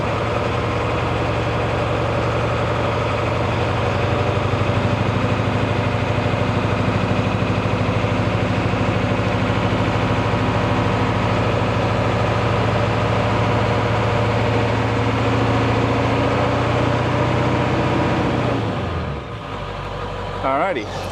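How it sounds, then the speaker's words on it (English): A Ford OBS Powerstroke diesel engine runs at slightly raised RPM during lift pump repair, a loud steady low rumble with constant drone that holds for about nineteen seconds, then drops away near the end. "I'm gonna bring the engine RPM up slightly to try to work through that air pocket."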